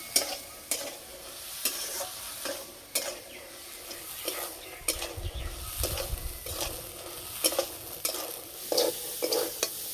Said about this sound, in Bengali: সব জলটা শুকিয়ে ছোলাটা ভালো করে রান্না করে নেব।